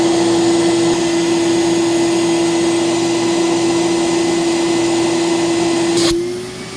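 A Pacific Steamex Genius vacuum blows loud, steady airflow at the end of its wand, with a constant roaring hiss and a sustained motor whine, cutting off near the end as the sound winds down.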